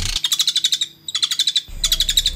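A caged songbird sings loud and close in three bursts of rapid, bright trilling with short pauses between them, alone with no voices.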